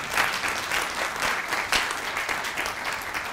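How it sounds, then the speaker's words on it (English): An audience at a county historic preservation reception claps in sustained, dense applause that carries steadily for a few seconds, close and loud, with no voices over it. "Clap for that."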